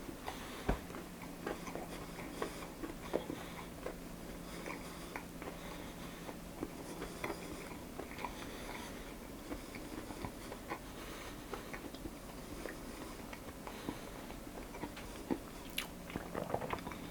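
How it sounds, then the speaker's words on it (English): Chewing and biting into a Finnish korvapuusti cinnamon bun, crisp outside and soft inside, with quiet close-up crunches and soft mouth sounds repeating through a low room hum. "I've already tasted one of the off-cut ones and I'll have another taste of it now."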